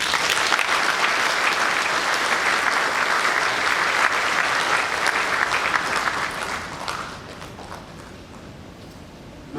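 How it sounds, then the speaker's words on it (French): Dense, steady applause fills a session-opening ceremony in Gabon's Transitional National Assembly, holding strong for several seconds before thinning and fading out near the end. "Je vous prie de bien vouloir l'acclamer par vos applaudissements."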